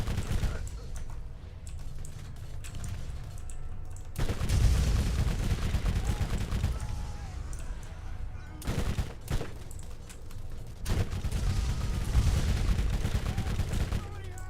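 Rapid SMG bursts from a submachine gun in the video game Borderlands, dense and loud automatic fire in long strings with brief gaps between them.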